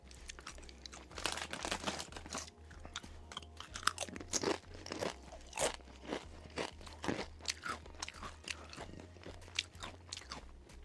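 Crunchy limited edition Doritos tortilla chips being bitten and chewed up close, with repeated loud crisp crunches in an irregular rhythm, no talking.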